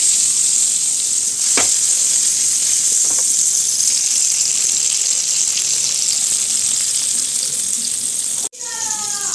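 Chicken seekh kebab frying in a pan, a loud steady sizzle up close that cuts off abruptly near the end.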